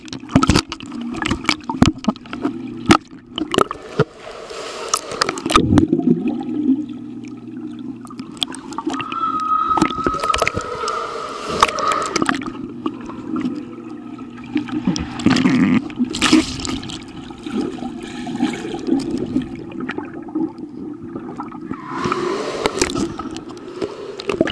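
Swimming pool water heard through a waterproof case, with loud sloshing, gurgling and bubbling, muffled underwater thumps and irregular splashes that continue throughout at close range.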